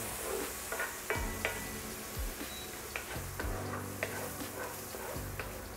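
Food frying in rendered chorizo oil in a pan, a soft continuous sizzle broken by regular sharp clicks and scrapes of a utensil against the pan.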